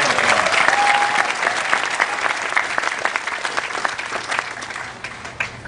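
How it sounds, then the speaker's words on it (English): Sustained applause from a graduation commencement audience, loud and dense with many hands clapping at once, gradually easing off toward the end. "Just give yourself a hand of"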